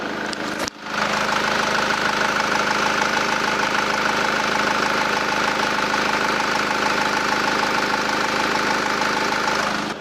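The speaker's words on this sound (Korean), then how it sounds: "엔진 소리 한번 들어볼게요" SsangYong New Kyron 2.0 diesel idling with the engine bay open, a steady close hum that holds evenly from start to finish after a brief dip near the beginning, with no talking.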